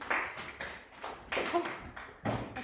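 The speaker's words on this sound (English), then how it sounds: "Clap for them." Scattered, faint hand claps from a small group in a class on the traditional African family: a few separate bursts spread over a couple of seconds, with no talk.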